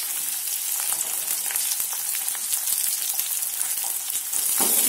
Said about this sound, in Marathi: लसूण व्यवस्थित झालं की आता याच्यात आपण आपला कांदा टाकून देऊया।